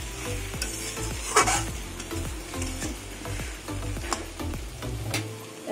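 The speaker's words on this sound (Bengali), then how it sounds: "এবার কিছুক্ষণ নাড়াচাড়া করবো" Taro stolons cooked with katla fish are stirred in a pan, with repeated scraping strokes of a spoon over a steady low sizzle, close and moderately loud with no talking.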